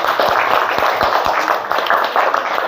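Classroom applause for student groups 1 and 2 after a presentation, steady scattered clapping from many hands, fairly loud and sustained throughout.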